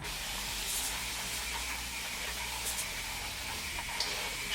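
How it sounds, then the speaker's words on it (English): Faint, steady hissing of a spray bottle misting curly hair with water, continuous and close, with a few soft breathy bursts over the quiet background. "And then I'm gonna spray my hair again."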